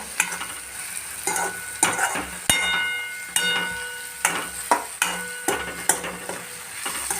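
Bitter gourd curry without gram flour stirred and frying in a pan, a steady sizzle broken by repeated scraping and clinks of a spoon against the pan, close and alone.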